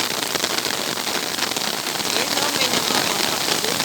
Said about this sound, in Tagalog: Ito po ang itsura ng dagat pag malakas ang ulan.